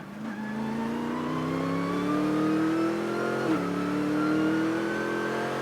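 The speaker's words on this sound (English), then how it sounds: "Having to short shift just to reduce any wheel spin and stuff." A race car engine on a wet track revs and climbs, with a quick dip as it shifts up early, then keeps pulling in a steady, loud drone.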